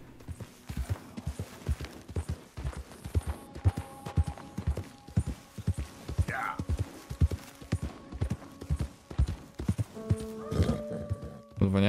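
Horse galloping in Red Dead Redemption 2, hooves pounding in a steady fast rhythm throughout, with a brief whinny and game music tones, while someone talks over it.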